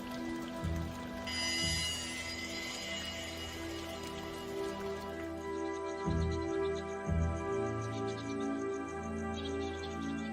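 Rain falling over a bat camp of flying foxes, a steady hiss of drops on surfaces with brief low thuds and a few faint chirps in the background.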